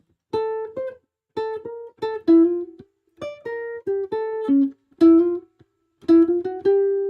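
A solo seven-string jazz guitar plays quick single-note bebop phrases from a tune in short bursts separated by brief pauses, clear and close.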